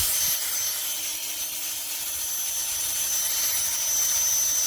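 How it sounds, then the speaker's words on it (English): A small bit drills starter holes into schedule 80 pipe for a garden setup. It makes a steady, close, high-pitched whirring grind that holds evenly throughout, with no voices. "what I'm doing here is I'm just drilling some holes, the starter holes with a small bit"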